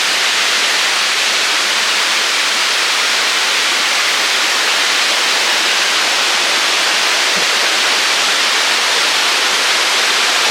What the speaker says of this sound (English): You see there's like kind of like a little runoff from the waterfall here